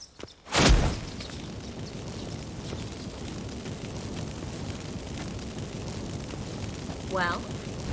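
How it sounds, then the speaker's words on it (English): Magic incense fireworks in The Witcher 3 go off with one loud, sudden burst followed by a sustained roaring hiss, with a short tonal whistle near the end. "Get ready for some magic fireworks."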